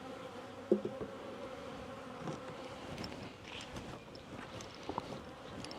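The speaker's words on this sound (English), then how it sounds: "Oh man, that's a lot of bees." A dense, steady buzzing of many bees fills the air, close and continuous, with a few sharper knocks and rustles.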